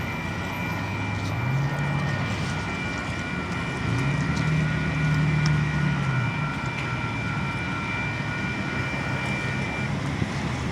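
Union Pacific manifest freight train rolling into a south yard, a continuous loud rumble with steady tonal locomotive hum and wind-buffeted noise throughout.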